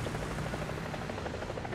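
Helicopter in War Thunder ground realistic battle, a steady rotor drone that stays continuous and fairly loud, with no one talking over it.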